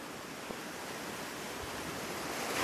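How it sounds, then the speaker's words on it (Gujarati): A river in flood rushes past with a strong, steady roar of water, a dense continuous wash that swells slightly toward the end, with no voices. "નદી જોરદાર આવી જાય છે"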